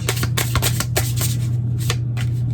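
Cards are shuffled in quick riffling bursts, a rapid rustling flutter repeating close up, over a steady low hum.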